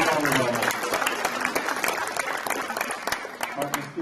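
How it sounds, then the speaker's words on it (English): Applause at a high school signing day for a student heading to King University to play volleyball: a crowd claps steadily with sharp individual claps standing out, while voices talk and cheer underneath. "Let's give Lucy a round of applause as she's heading to King University to play volleyball"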